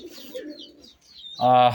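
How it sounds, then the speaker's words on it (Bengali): Pet pigeons coo in a short, close, loud burst at the end, after softer bird sounds and a brief voice. "আমার কিছু কবুতর আপনাদেরকে দেখাই"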